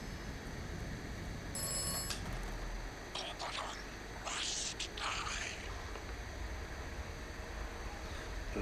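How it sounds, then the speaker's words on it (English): A telephone ringing in the video game Atomfall, short bursts of an old-style bell ring against a steady background hiss, moderately loud, with a few ring bursts spaced over several seconds. "you walk down here and this phone will start to ring"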